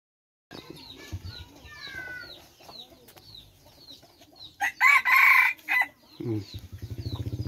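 Roosters and decoy fighting chickens at a Thai rural setting cluck and chirp throughout, with one loud crow bursting out near the middle, followed by a low rumbling noise at the end.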